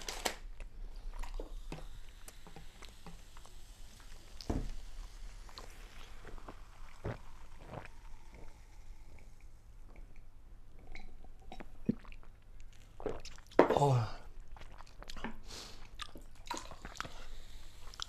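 Potato chips crunch between the teeth in scattered close bites and chewing, soft and intermittent over a quiet room, with one louder crackling burst near the end.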